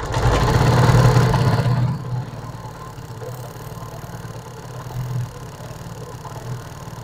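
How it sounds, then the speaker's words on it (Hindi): A motorcycle engine roars loudly for a couple of seconds, then drops to a steady, low idling rumble with faint clatter. "अब मैं जो है इसका प्लग टाइट करके आपको बाइक स्टार्ट करके भी दिखाता हूँ"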